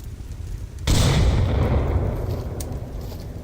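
A grenade blast in the virtual reality shooter Onward: a faint background hum, then one sudden loud, close explosion whose booming rumble decays slowly over a few seconds.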